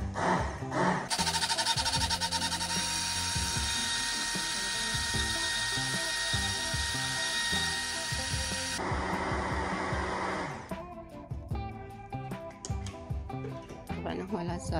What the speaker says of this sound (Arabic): نضيف الزيوت للماي ونبدي نستخدم طبعا الخلاط اليدوي